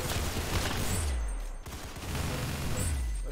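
Dense video game gunfire in a Roblox Arsenal match, continuous loud bursts and rattling shots with low booms, close and sustained throughout.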